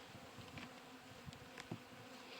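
Dense, steady buzzing of many honeybees close by at a hive being opened in cold weather, a faint agitated hum with occasional louder passes near the microphone.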